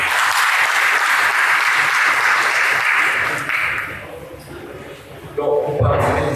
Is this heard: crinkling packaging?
no